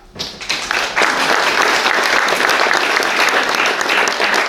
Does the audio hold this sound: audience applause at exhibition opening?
yes